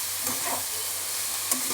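Chickpea greens frying with potatoes and beans in a pan, a soft continuous sizzle with a couple of brief stirring scrapes, close and low in level, no voices.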